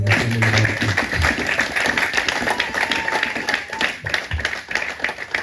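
A church congregation clapping in acclamation of God during a Sunday service, a rhythmic, fairly loud patter of many hands with a brief tonal voice at the start.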